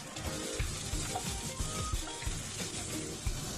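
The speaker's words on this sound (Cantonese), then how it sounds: "首先爆香啲薑同埋蒜頭，" Ginger and garlic with scallion pieces frying in cooking oil in a heated pot, a steady close hiss of sizzling with faint scraping underneath.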